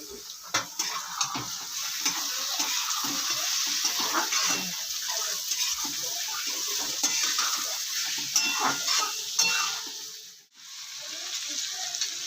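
Onion and tomato sautéed in oil for paneer bhurji give a steady, close sizzle with stirring scrapes throughout, dipping briefly near the end before the frying noise resumes.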